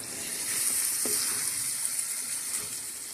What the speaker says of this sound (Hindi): तो इसमें बटर को हम ऐड करते हैं